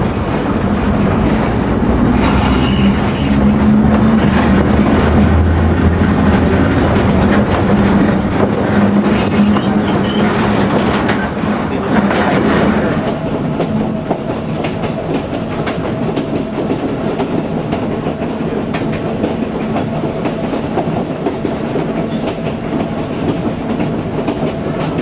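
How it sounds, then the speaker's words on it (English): A two-car steel interurban train rolls past on the tracks with a loud, steady rumble and clickety-clack of wheels, the roar easing slightly partway through. "A 2-car steel train heads south through Baltimore Park"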